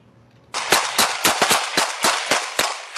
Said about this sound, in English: You can hear the officer reloading his gun as bullets ring out.